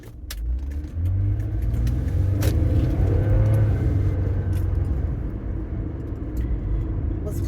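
A car engine revving in traffic, with a steady rumbling drone that swells after the first second and slowly eases off, and a few sharp clicks scattered over it.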